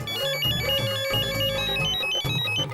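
A mobile phone plays a melodic ringtone, a repeating electronic tune that rings continuously and clearly in the foreground.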